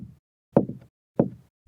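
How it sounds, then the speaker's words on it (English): Knocks on an apartment drywall, three slow dull thuds spaced evenly about half a second apart, close and isolated against near silence. "3 slow knocks."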